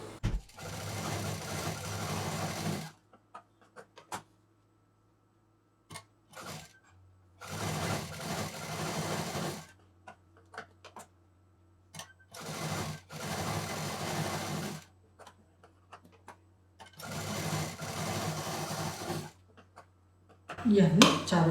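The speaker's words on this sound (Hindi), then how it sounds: "तो मैं वाइट से यहाँ पर दाब मशीन चलाऊँगी" Sewing machine running white thread in both bobbin and top, stitching patchwork pieces for a bedsheet or runner; four loud bursts of steady mechanical whirring stop and start between quiet pauses, with occasional clicks in the gaps.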